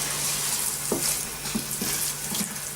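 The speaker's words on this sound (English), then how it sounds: "Half of this video is about just stirring the mushy rice." Mushy egg fried rice is stirred in a hot pan. A steady, close sizzle runs throughout, broken by a few soft scraping taps from the utensil, with no voices.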